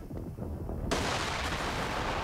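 Broadside cannons firing from a warship in the video game Dreadnought, a dense burst of booming shots hitting at once after a low rumble, followed by a sustained roaring wash of noise.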